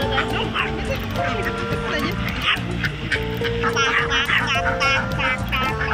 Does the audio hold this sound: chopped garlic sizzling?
no